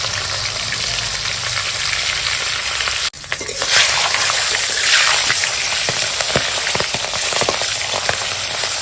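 Rohu fish head, rubbed with salt and turmeric, sizzling loudly in hot oil over a stove: a steady dense frying hiss that briefly cuts out, then surges back with crackling spatters.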